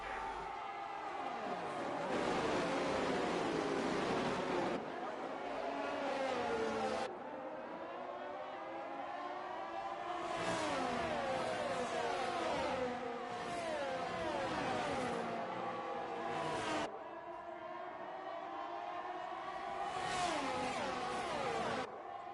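Race cars from a Formula-style racing video game run close together in a DRS train on an Australian circuit, their engines droning and rising in pitch as they pass, with continuous high-revving whine and repeated gear-change swells.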